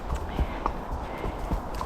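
An Icelandic horse's hooves clop in an irregular rhythm on a trail while it is ridden, sounding close and moderately loud, with faint voice and wind noise behind them.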